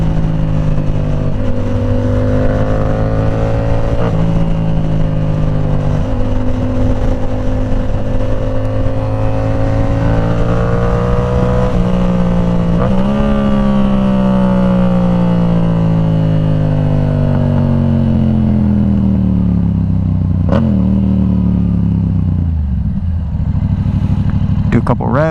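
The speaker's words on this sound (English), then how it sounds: "Let me just do a couple of downshifts so you guys can hear it." A Yamaha R7 motorcycle's exhaust note rises and falls through a series of downshifts and revs, loud and close, with engine pitch sweeping down between bursts; no talking over it.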